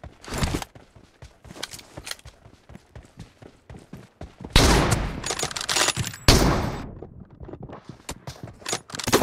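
Video game gunfire in an M24 team deathmatch room, with dense rapid bursts of shots and scattered single cracks, loud and close, alongside footstep-like clatter and brief speech.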